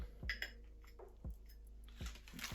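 Light clinks and knocks of plates shifting against each other inside a parcel, a few scattered taps close by with rustling between.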